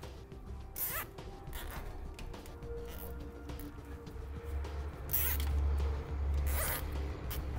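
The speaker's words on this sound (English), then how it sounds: "Then we'll take some zip ties. We'll tie everything up." Zip ties are pulled tight around the wiring of a Hopkins 4-pole loop trailer connector, giving several quick zipping ratchet bursts, close and crisp, separated by short pauses over quiet room tone.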